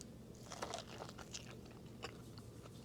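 Someone bites into smoked ribs cooked on an Orion Cooker, with close, quiet crunching and chewing that carries on over a few seconds and no talk.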